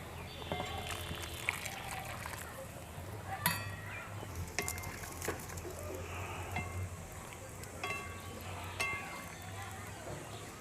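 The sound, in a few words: hot water added to vegetables cooking in a pan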